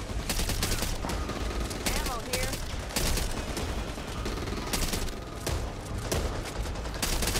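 Pistol fire in the zombie shooter Back 4 Blood on PS5, loud repeated shots crackling in bursts over a dense roar of game noise and chaotic action.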